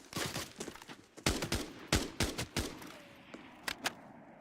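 Gunfire crackles in the shooter game Arena Breakout Infinite: a run of sharp shots in uneven clusters, fairly distant, thinning out to a few scattered cracks toward the end.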